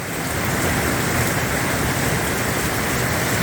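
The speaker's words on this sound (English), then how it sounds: "There's the rain. We finally got it." Steady rain falls on a sheep farm as a dense, even hiss that fills the whole stretch at constant loudness, with no voices.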